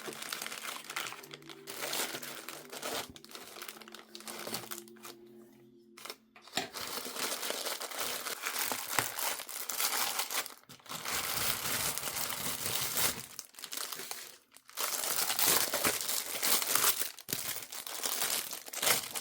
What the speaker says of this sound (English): I'm unwrapping the latest Total Tarot magazine